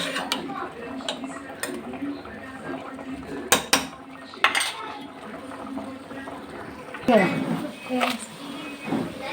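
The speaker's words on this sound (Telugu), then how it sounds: "వంకాయ వేసి బాగా కలపాలి తర్వాత కలపడానికి రాదు కదా మెత్తగా కాబట్టి ఇప్పుడు కలిపేసి మగ్గించుకోవాలి" A spoon stirs brinjal (eggplant) curry in a cooking pot, giving scattered metallic clinks and scrapes against the pot, with a few sharper knocks, while a person talks throughout.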